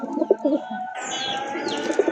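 A pair of pigeons cooing nearby in short throaty bursts, with a higher chirping bird call joining partway through.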